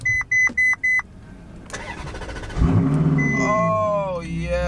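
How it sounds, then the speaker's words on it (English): A Ferrari starts up after four evenly spaced dashboard beeps: the starter cranks briefly, then the engine fires with a loud bark and settles into a rumbling idle, while people talk and exclaim excitedly over it. "Foot on the brake and hold the start button until it fires up."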